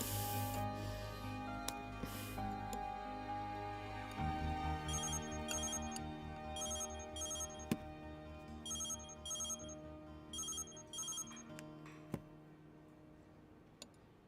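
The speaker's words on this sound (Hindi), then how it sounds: "इस समय किसका फोन था?" A phone rings in a quiet room, a faint electronic ringtone repeating in short patterned bursts over a low hum, with a few sharp clicks scattered throughout.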